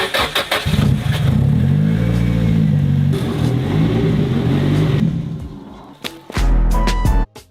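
A tuned drift car making close to 400 horsepower revs hard, a loud sustained engine roar rising and settling, then sharp blips and a final burst of throttle.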